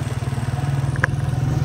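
A motorcycle rides along the Skardu road, its engine putting out a steady, pulsing mid-pitched drone heard close and fairly quiet, with a brief click partway through.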